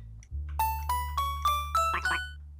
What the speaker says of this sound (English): Check out the bells, son.